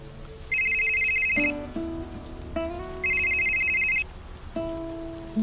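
A phone ringtone plays a repeating electronic melody, loud and close, with a short two-part pattern sounding twice.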